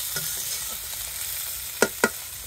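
Fish and vegetables sizzle softly in a pan under a steady hiss, with a couple of sharp clicks of a spoon against the pan near the end.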